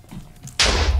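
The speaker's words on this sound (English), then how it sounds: "Unfortunately, it's not the biggest of explosions" A TNT explosion in Minecraft with the Too Much TNT mod erupts suddenly after a quiet moment, a single sharp blast that trails into a loud, rumbling roar.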